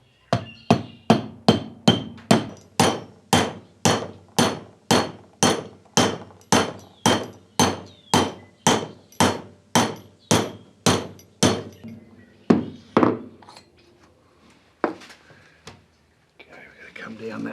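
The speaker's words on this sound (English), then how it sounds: "Grab the hammer." A hammer strikes a metal part of an ancillary on a Series 1 Land Rover under restoration, about two dozen steady, loud, close blows in a regular rhythm, then a few scattered hits after a short pause.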